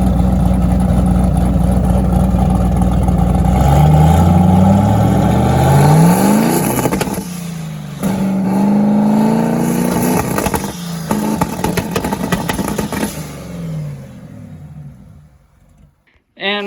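A turbocharged LS-swapped Mazda Miata fitted with launch control revving hard: a loud, close, sustained engine roar rising and falling through several pulls, with rough crackling toward the end before cutting off abruptly.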